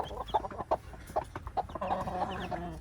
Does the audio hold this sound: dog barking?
no